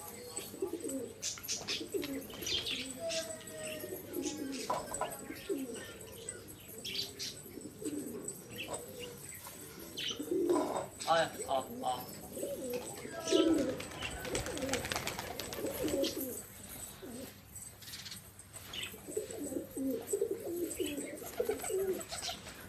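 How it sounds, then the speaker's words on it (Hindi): Pigeons coo in soft, repeated low bursts throughout, with occasional chirps and brief wing flaps over a steady outdoor background. "ये कबूतर अब नीचे उतर चुका है।"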